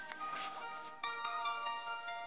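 A phone rings with a steady electronic tone of repeated bursts, fairly quiet and alone, no voices.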